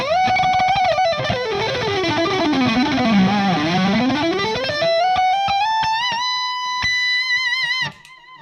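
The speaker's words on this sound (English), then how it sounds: "Now I'll just compare it to the Fender Yngwie Overdrive." An electric guitar played through a Fender Yngwie Malmsteen overdrive pedal gives a loud, driven lead line. It sweeps down and back up in pitch, then settles into sustained, vibrato-laden notes that cut off abruptly at the end.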